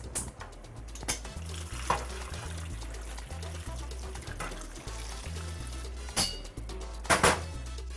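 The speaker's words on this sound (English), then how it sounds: "Let's put it over the stove top, and let's add our boiling water." Boiling water poured from a kettle into a stovetop pot of white and red potatoes, a steady splashing pour with occasional clinks of metal and pot handling, close up with no talking.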